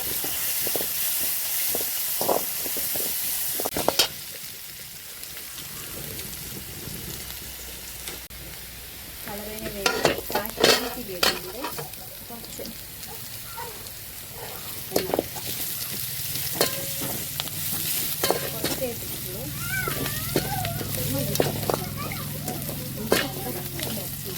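Sliced big onions and garlic fry in hot oil until brown, giving a loud, close sizzle broken by scraping stirs and clatter, while a voice talks now and then.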